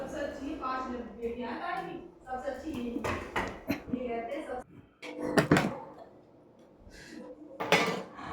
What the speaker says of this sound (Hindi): तो यहाँ पर मैं प्लेट लगा रही हूँ।